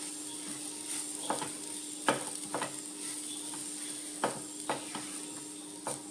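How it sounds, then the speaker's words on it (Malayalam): Ration rice flour roasting in ghee gives a low, steady sizzle, with a few distinct scraping strokes of a spoon stirring it in the pan, fairly quiet and with no talking. "നല്ലോണം മിക്സ് ചെയ്ത് നമ്മൾ ഒരു 5 മിനിറ്റ് നേരം നമ്മളിതൊന്ന് വറുത്തെടുക്കണം കേട്ടോ."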